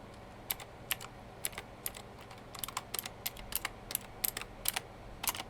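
Irregular bursts of crisp clicks from fingers typing on a chrome keyboard with round keys, recorded up close in a quiet room with pauses between the runs of keystrokes.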